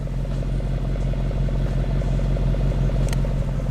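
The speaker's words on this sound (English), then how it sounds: "I'm not really sure if you guys can hear me with the exhaust sound." Mercedes-AMG E63 S with 612 hp, idling or cruising with a steady, deep exhaust rumble and throb that stays loud and close throughout, with no break in the drone.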